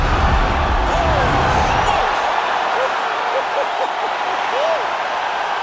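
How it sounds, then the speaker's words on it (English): A UFC arena crowd roars after a knockout, a loud, continuous wall of cheering that swells most strongly at the start, while a commentator talks over it. "That'll get the crowd on its feet."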